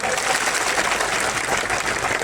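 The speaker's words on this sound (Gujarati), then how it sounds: "મીડિયા મિત્રો માટે એકવાર જોરદાર તાળીઓ પાડી લો" A crowd at an outdoor Save Aravalli public rally in Khedbrahma, Kheroj, applauds the media team in a dense, steady wash of clapping that stays loud and even throughout.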